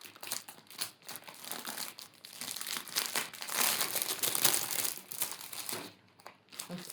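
Plastic wrapping comes off a canvas gift with close, crinkling and crackling rustles that rise and fall in irregular bursts, louder in the middle and easing briefly near the end. No one speaks.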